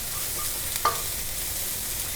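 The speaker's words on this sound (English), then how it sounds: "Hear the sizzle? That's good." Garlic and ginger sizzle steadily in a hot pan, a continuous soft hiss with one brief clink partway through.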